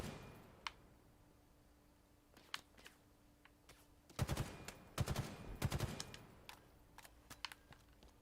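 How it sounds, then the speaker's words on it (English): Pistol gunfire in a video game: a few sparse single shots early, then a dense cluster of sharp loud bursts in the middle, with scattered isolated cracks afterward. "That guy's trying to get me with his pistol."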